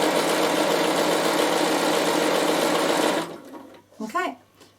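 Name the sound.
Bernina sewing machine stitching fabric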